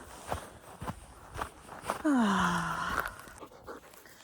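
A dog walks and pants on a mountain outing, with footsteps thudding steadily and a brief whine-like tone mid-clip, close to the microphone and without talk.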